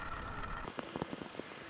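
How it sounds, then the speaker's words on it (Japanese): Intermittent rain falls in Niigata Prefecture under very unstable, stormy weather, giving a faint, steady patter with a cluster of sharper drops and taps toward the end. "大気の状態が非常に不安定になっていて、断続的に雨が降っています。"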